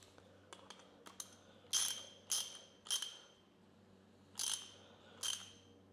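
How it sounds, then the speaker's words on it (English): A ratchet tightens a 10mm nut with a washer back onto a Ryobi lawnmower during carburetor reassembly: faint scattered clicks, then five louder bursts of rapid ratcheting spaced about half a second apart, close by and quiet. "Put the nut back on, so that nut's also got a washer on"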